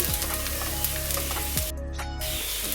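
Finely chopped onions sauté in a pan for a coconut milk chicken kulambu, giving a steady close sizzle with scattered crackles and a brief stirring scrape, no talking.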